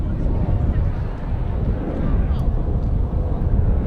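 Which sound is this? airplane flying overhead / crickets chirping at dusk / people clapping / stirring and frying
airplane flying overhead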